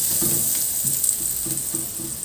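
Eggplant slices frying in butter in a pan, a steady bright sizzle running throughout at moderate loudness, with faint soft knocks underneath.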